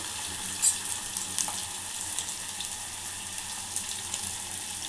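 Long-sliced onions fry in a pan for a Telangana-style okra stew, a steady close sizzle with a few sharper crackles and light stirring, no talk.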